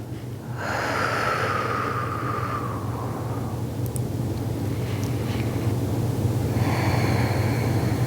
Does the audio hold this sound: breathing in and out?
yes